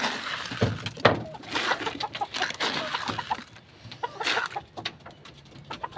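Several chickens cluck close by in short, irregular bursts, with scratchy rustling between calls.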